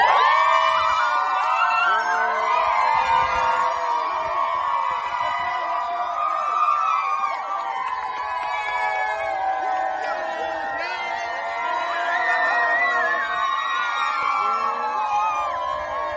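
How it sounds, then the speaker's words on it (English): Students crowd outside a college, waiting in line to see Kamala Harris, a dense, steady wash of excited shouting, whooping and cheering chatter that carries on loudly throughout. "here was first the crowd outside to set the scene, the line waiting to see her"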